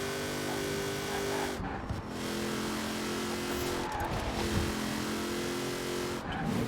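A Mosler race car drives in Forza Horizon 4, its engine droning loud and steady with tire squeal and skidding through corners and brief gear-shift dips, no talking.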